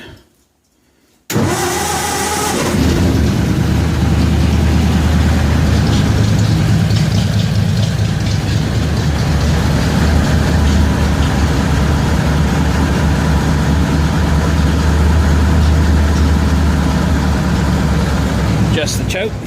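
A 1936 Ford 1 1/2 ton truck with an 8BA flathead V8 cranks and fires on a cold start, then settles into a loud, steady, close idle, with a voice briefly heard.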